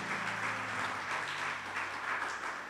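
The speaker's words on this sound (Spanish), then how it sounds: "Un aplauso al Señor." A church congregation breaks into steady, full applause, a continuous dense wash of clapping that fills the space, with a faint tonal hum underneath.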